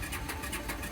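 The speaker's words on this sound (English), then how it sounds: "the engine always starts at the first try." A 38-year-old motorbike engine catching on the first try, a brief mid-pitched churn with rhythmic pulses that settles toward an idle.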